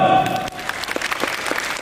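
A burst of clapping from a group, quick and uneven, following a brief tone that fades out at the start.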